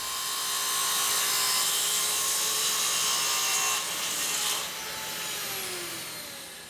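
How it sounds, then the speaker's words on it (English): A track saw cuts through a large bug-damaged wooden tabletop, giving a steady, loud whining buzz with broadband rasp that holds for several seconds, dips slightly near the end and keeps running. "Once we've got the piece cut to size on the track saw"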